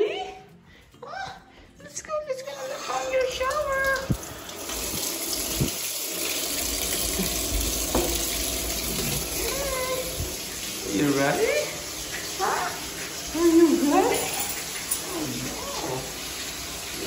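Shower water runs steadily and loudly for a yellow Labrador Retriever puppy's bath, a continuous hiss with brief gaps and voices talking over it.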